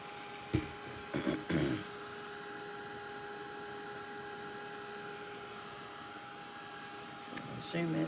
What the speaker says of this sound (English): let's just dry that with the heat tool